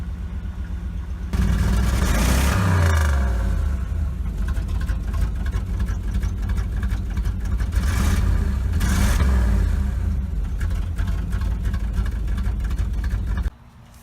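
Chevy Camaro engine running at idle while warming up, a steady loud rumble with some rising revs early on, starting abruptly and cutting off near the end, no talk over it.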